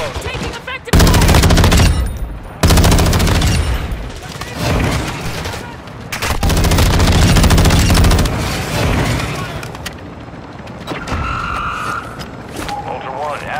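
Heavy sustained automatic gunfire in Call of Duty MW2's DMZ mode, loud bursts of rapid shots stacking into dense volleys with brief lulls, then quieter scattered fire and game effects toward the end.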